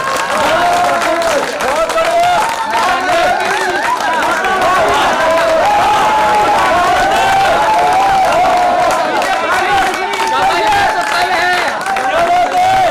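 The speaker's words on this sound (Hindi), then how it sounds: "तालियां बजाओ चलता है।" An audience at a Hindi poetry recital by Rajesh Chetan claps and cheers loudly without a break for about thirteen seconds, with many voices shouting and calling through the steady clapping.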